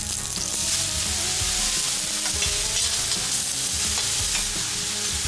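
Batter cakes fry in a hot pan, giving a steady, close sizzle and crackle that holds loud and even throughout with no voices.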